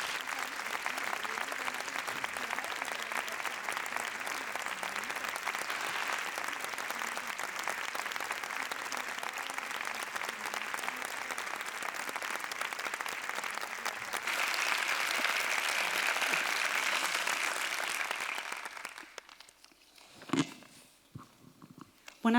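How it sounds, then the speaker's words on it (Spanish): An audience at a cultural talk at the Centro Niemeyer gives long, steady applause welcoming author Irene Vallejo, swelling briefly near the end before dying away into a few scattered claps and quiet. "Recibamos con un aplauso a Irene Vallejo"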